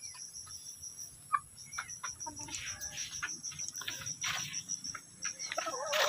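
Gamefowl such as a brood stag and Gilmore Cross McLean and Devil Hatch breeds clucking in a yard, with scattered short calls over a steady insect-like hum, no talk.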